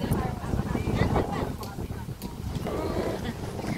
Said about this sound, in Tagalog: Ayan, super hangin.